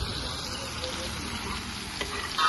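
Chopped capsicum and beans fry in butter in a pan, giving a soft steady sizzle with occasional stirring scrapes, close and fairly quiet, with no talking.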